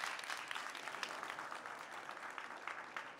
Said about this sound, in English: Okay, some applause.